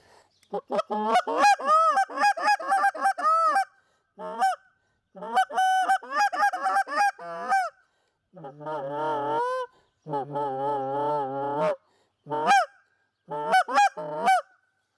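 A caller imitates Canada goose honks with his voice, loud clear bursts of repeated two-note honks and clucks in several separate sequences, close and alone.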